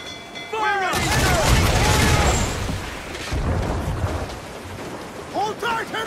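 A ship's cannon broadside in Assassin's Creed IV Black Flag: after a shouted order, a heavy rolling volley of booming blasts erupts and rumbles on for several seconds, with voices calling out over the din.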